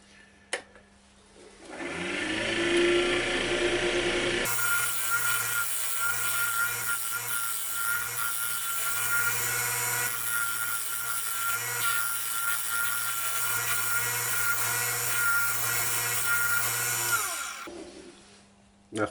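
A carbide-tipped round scraper works a small winged wooden dish on a lathe, making a continuous close scraping hiss over the lathe's steady hum for about fifteen seconds.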